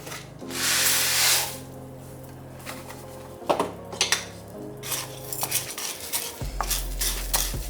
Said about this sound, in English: make sure that you cover all of the rice and the noodles with butter, or else they will burn